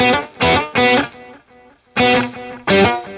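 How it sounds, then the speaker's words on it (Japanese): Electric guitar played through a BOSS KATANA Go headphone amp with a strong delay effect: bursts of bright, distorted strummed chords, each trailing into fading repeats between loud attacks. "ちょっとディレイが強いんで。"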